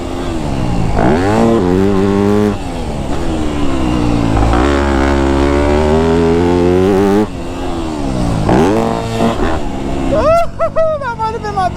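A Yamaha YZ250F dirt bike engine screams loud and close as it rips out of corners, climbing and dropping through repeated high revs, with a quick burst of choppy throttle blips at the end.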